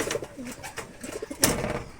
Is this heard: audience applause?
no